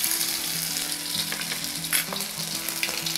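Ginger-garlic paste and mustard seeds in hot oil, a loud, dense, continuous sizzle up close with stirring and light crackles, throughout a short stretch with no voices.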